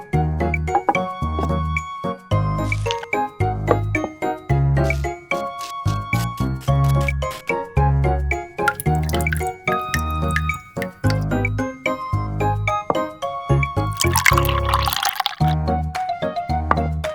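Water and coconut milk are poured while a miniature watermelon jelly is made, giving a long series of close, distinct drips and trickling splashes in an uneven rhythm.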